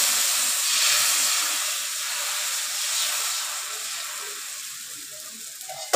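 A ragi ghavane, a thin finger-millet crepe, sizzles while it roasts on a hot pan, giving a steady close hiss that fades a little over the seconds, with no talking.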